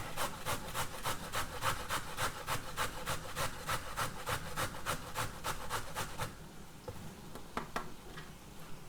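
Carrot grated on a coarse grater in a home kitchen, a steady run of evenly spaced rasping strokes up close for about six seconds, then a pause and a few last scrapes.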